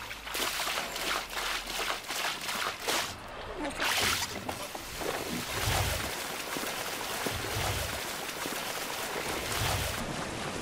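A boat sailing at sea in Assassin's Creed Odyssey, with steady rushing wind and water, recurring low wave swells and splashes, and a voice talking over it at times.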